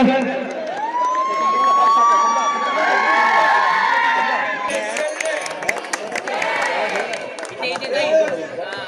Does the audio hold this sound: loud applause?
yes